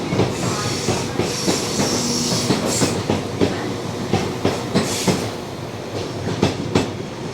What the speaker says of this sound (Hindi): मैं पहुंचा हूं Manchester train station, Manchester Piccadilly train station.